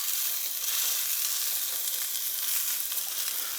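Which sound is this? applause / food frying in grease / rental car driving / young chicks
food frying in grease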